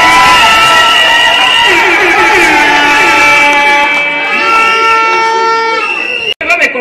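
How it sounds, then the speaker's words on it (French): Guests at a Congolese wedding in Kinshasa cheer loudly in a hall, with whoops and shouts plus sustained horn-like tonal blasts over the crowd, ending in a sudden break and a few scattered bursts. "Je vais vous demander une fois de plus de l'applaudir très très fort."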